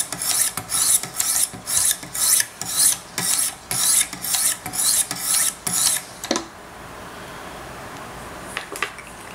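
A Wicked Edge sharpener hones a micro bevel on a large Sebenza 21 Insingo knife: about a dozen rhythmic, close, gritty strokes in steady succession, then a quiet stretch broken by a couple of faint scrapes.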